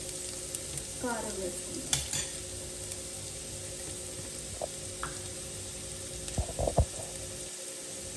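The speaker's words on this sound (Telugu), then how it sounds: "క్యారెట్, చికెన్ సాసేజెస్ బాగా ఫ్రై అయిపోయినాయి" Carrot and chicken sausage frying in a pan for carrot rice, a soft, steady sizzle under occasional clinks and utensil knocks, with a brief spoken remark partway through.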